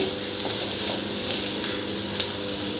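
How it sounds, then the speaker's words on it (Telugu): Thinly sliced onion pieces fry in oil for ivy gourd pachadi, giving a steady, gentle sizzle with faint crackles and the odd stir throughout. "సన్నగా కట్ చేసుకున్న ఉల్లిపాయ ముక్కలను కూడా యాడ్ చేసుకుని ఒక రెండు నిమిషాలు ఫ్రై చేసుకుని"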